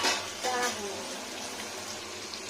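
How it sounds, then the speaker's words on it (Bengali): Small freshwater fish fry in oil over a high flame, a continuous soft sizzle with occasional stirring or turning noises, moderately close, and a voice talking faintly beneath it. "ফুল স্পিডে দিতে হয়, নাহলে মাছ ভাজা মুশকিল আছে"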